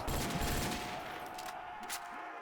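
The Diet Slurm gun in a Futurama-themed Call of Duty custom zombies game fires a rapid string of shots that starts loud and thins out, with a few sharper bursts near the end.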